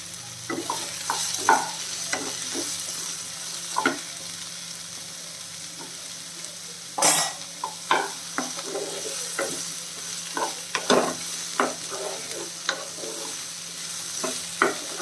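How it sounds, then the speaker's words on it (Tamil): Chopped chayote (chow chow) with softened tomato stirred and sautéed in a pan for a chutney: a low continuous fry with repeated spoon scrapes and clanks, a louder burst midway, and no speech. "இது வந்து நம்ம நல்லா கிளறி விட்டுட்டோம்"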